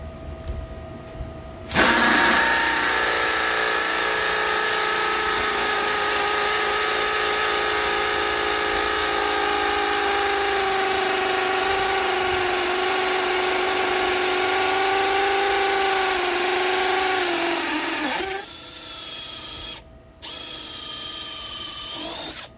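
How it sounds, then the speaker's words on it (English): A loud hammer drill bores a planting hole continuously for about fifteen seconds, its pitch slowly dropping under load, then briefly stops and restarts near the end. "Switch it to some hammer action, see if it'll go faster."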